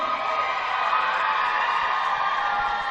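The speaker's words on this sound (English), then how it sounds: "Very vocal crowd here tonight." Supporters at a rugby league grand final cheer in a steady, dense roar, a broad crowd wash with no single voice standing out.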